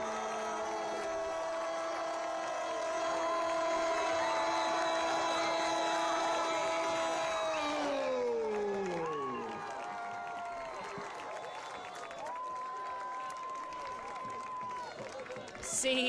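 A home soccer crowd roaring and cheering after a 119th-minute goal by the Lubbock Matadors against the Arizona Monsoon in a US Open Cup match: a broad, steady crowd din under commentary, with ringing tonal sounds above.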